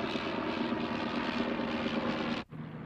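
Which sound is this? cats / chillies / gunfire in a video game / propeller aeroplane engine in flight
propeller aeroplane engine in flight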